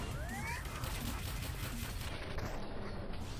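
Laser-like gunshots from the virtual reality shooter Space Pirate Trainer, fired in a steady crackling stream and mixed with rising synthetic whooshes, fairly faint under a busy game soundscape.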